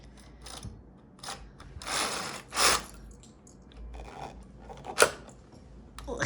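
A knitting machine carriage pushed across latch needles carrying yarn, giving irregular mechanical clacks, ratcheting scrapes and sliding rasps, moderately close with pauses between strokes and no talk.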